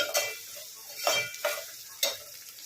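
Chopped green chillies and ginger are stirred in hot oil in a pan for Rayalaseema ugggani, a soft sizzle punctuated by four distinct scraping clinks of the spoon against the pan, close and without talk.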